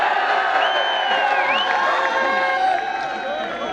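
A live audience at a Hindi poetry recital, a kavi sammelan held at MIET, hoots, whoops and cheers loudly and continuously. The rising and falling whistles and shouts blend into a dense, close crowd roar throughout.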